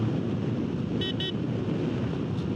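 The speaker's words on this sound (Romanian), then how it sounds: "Un vânt infernal de la ploi și un praf de aici, de pe străzile laterale" Strong wind roars steadily and loudly into the microphone while it blows dust along a street. A brief double car horn toot sounds partway through.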